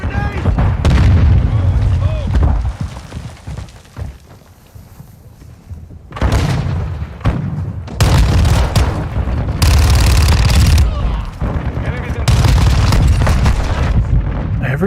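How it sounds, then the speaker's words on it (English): Heavy booms and gunfire sound around a flash grenade throw in Modern Warfare II, loud, close and constant, with a brief dip midway before dense blasts return. A voice talks over the action. "Throwing flash grenade!"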